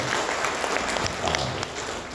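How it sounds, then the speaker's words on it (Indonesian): Audience applause at a civic address on the future of Kotamobagu, a dense, steady wash of many hands clapping that holds for about two seconds without a break. "Tepuk tangan untuk semua."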